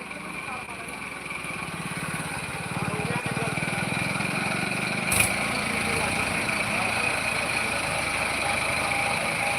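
A tractor engine drones steadily while reversing and pushing soil during repair of a sunken road between Dosanjh Kalan and Mukandpur, a close, continuous mechanical rumble that shifts slightly in pitch, with voices heard over it.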